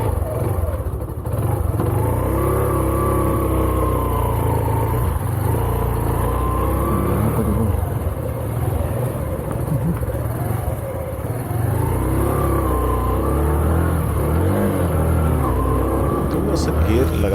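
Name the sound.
Suzuki GSX125 motorcycle engine riding and shifting gears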